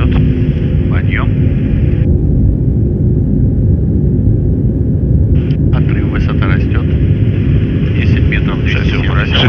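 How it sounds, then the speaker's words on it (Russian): An Antonov An-124 Ruslan transport aircraft takes off: a loud, continuous engine roar fills the cockpit with rumbling, and crew voices call out over it throughout. "Продолжаем взлет. Подъем."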